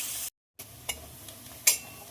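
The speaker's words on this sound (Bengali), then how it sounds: "পেঁয়াজটা ভাজার জন্য আমি খুব ভালোভাবে নেড়ে দেবো" Chopped onion frying in oil with whole garam masala and bay leaves, stirred in the pan: a soft, steady sizzle, briefly cut off, with a couple of faint scraping clicks.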